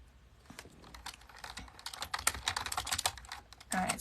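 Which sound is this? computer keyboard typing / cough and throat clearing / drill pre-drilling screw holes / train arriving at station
computer keyboard typing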